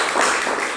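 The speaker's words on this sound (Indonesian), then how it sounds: "tepuk tangan untuk kelompok 3" A classroom of students clapping for the third group, a dense, steady patter of many hands close by.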